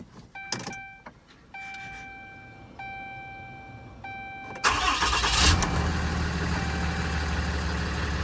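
Chimes ring several times, then a 2012 Ram 5500 pickup's 6.7 Cummins diesel engine cranks and starts, settling into a loud, steady idle.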